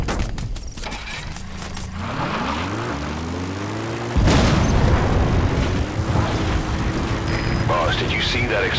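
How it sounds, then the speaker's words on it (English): A crashed vehicle explodes in the Metal Gear Solid V: The Phantom Pain video game, a deep booming blast that swells suddenly midway over rumbling engine and mechanical game sounds, with voices talking. "That explosion. There's smoke."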